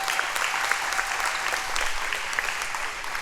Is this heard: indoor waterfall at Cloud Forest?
no